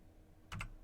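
Computer keyboard typing during a Java programming lesson: a short close burst of two or three quick keystrokes, fairly quiet, with no talk over it.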